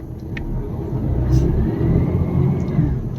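A car drives between buildings, parking lots and curbs in Kyiv, its engine humming and rumbling steadily up close with road noise throughout.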